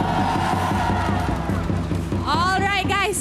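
An esports arena crowd at a Malaysian mobile game league match roars and cheers for Flame Boys over a thumping rhythmic music track, with shouts rising toward the end.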